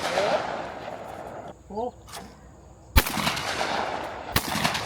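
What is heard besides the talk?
gunshots fired at a shooting range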